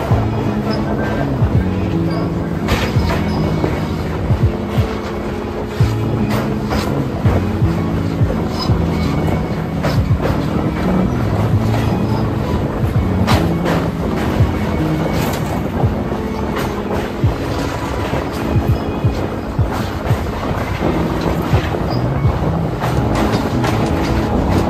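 A passenger train from Howrah toward Khirai running on its rails, a continuous rumbling ride noise with rhythmic clatter and some wind buffeting on the microphone, steady and fairly loud throughout.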